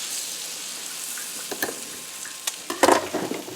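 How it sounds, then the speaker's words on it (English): Butter sizzles faintly on a warmed griddle under a soft steady hiss, with a few light clinks and scrapes near the end as it melts and spreads. "I have my griddle warmed up over here. I'm just going to put some butter on it."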